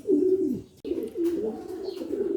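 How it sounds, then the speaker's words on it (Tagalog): Pigeons cooing in a loft, a close, steady run of low throaty coos with a short pause near the middle, no voices. "Ayan yung ating mga ibon."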